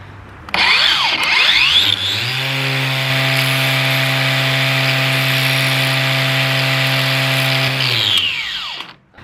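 Loud, continuous abrasive grinding against metal during fabrication on a 1968 Volvo, a motor whining at a steady pitch for several seconds before spinning down.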